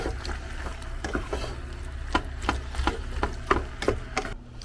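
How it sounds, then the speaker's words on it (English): A utensil scrapes and knocks repeatedly against a pot of chicken being stirred in an RV kitchen, in an irregular rhythm, close by over a low background hum. "Let's check on the chicken, give it another stir."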